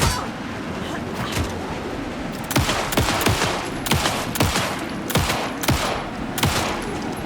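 Repeated gunfire in Alan Wake 2 on PC, a series of sharp shots cracking out in a steady rhythm over a dense, noisy game background, with speech mixed in around them.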